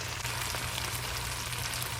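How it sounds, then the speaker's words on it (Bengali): Chicken fries in gravy in a pan, a close, even hissing sizzle with faint stirring, brief and steady without speech. "চিকেনটাকে অ্যাড করে ভালো করে নেড়ে নেব।"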